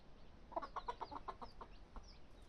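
A rooster among tiny chicks gives a quick run of about ten soft clucks, faint and close, followed by a couple of higher peeps.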